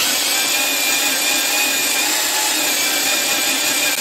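Electric power mixer churning powdered plaster filler in a bucket tilted on a shoe, a steady loud whirring drone with a gritty, scraping texture that runs unbroken throughout with no talking.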